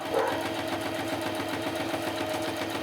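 A sewing machine stitches slowly across 12 by 12 scrapbook paper, a steady close whirring hum that runs continuously without pauses.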